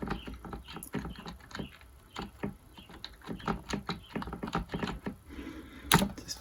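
A cheap new computer keyboard is typed on in quick, uneven bursts of clicky keystrokes. It is close and moderately quiet, with one sharper clack near the end and no voices.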